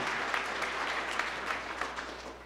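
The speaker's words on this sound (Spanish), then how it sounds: "Fuertes aplausos a Jesús por su amor y su misericordia." A congregation applauds during a Catholic church sermon, a steady wash of many hands clapping that sounds somewhat distant and soft, tapering slightly at the end.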